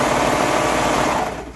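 A serger runs a 3/8 seam allowance along fabric, a steady fast whirring buzz that holds evenly for most of the stretch and then winds down near the end.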